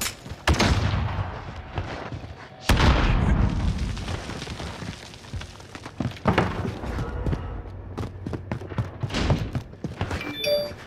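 Explosions and gunfire crash through a Call of Duty Warzone match, with a loud blast near the start, another heavy boom shortly after, and scattered shots and impacts continuing.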